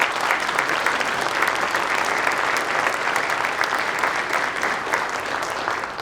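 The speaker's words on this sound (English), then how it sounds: "How about a round of applause for our talent?" An audience at a town inauguration ceremony claps steadily, a dense, sustained wash of applause that holds at an even level throughout before tapering slightly at the end.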